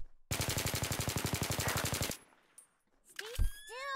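Rapid automatic gunfire in a video game rattles loudly in an even burst of about two dozen shots lasting nearly two seconds, then cuts off, followed by fainter game sounds.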